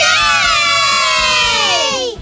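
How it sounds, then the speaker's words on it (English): A group of young children shout and cheer together in one loud, high, excited burst lasting about two seconds before it cuts off. "Shouted the 5 little Popsnorkels"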